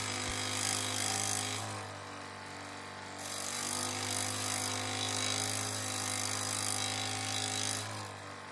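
A Makita SJ401 jigsaw cutting a Chevrolet D20 front grille, its motor whining steadily with rhythmic swells as the blade saws through the part, loud and close with no talk.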